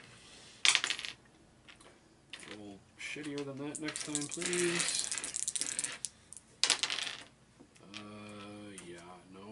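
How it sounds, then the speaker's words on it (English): Dice rattle and clatter across a table during a Shadows of Brimstone board game, with a sharp burst near the start and another midway, while players talk and laugh around the rolls. "So somebody roll 2 dice on me."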